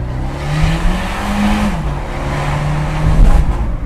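An Abarth 124 Spider sports car driving between buildings, its engine droning steadily and rising in revs near the end, loud and close from inside the car.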